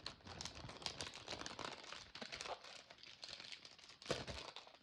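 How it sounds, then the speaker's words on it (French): Rubber stamps are being put away, giving close, busy rustling and clattering with crinkly plastic handling and small knocks throughout. There is no talking. "Pardon pour le bruit, je range les tampons."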